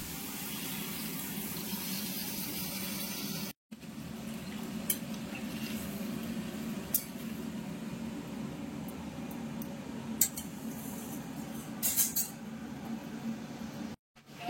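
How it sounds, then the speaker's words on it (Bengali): Water goes into a pan of simmering fig and potato curry, making a low, continuous wash of liquid sound with scattered light clinks of a utensil against the pan. "ভালো করে কষে গেছে, এবার জল দিয়ে দেবো।"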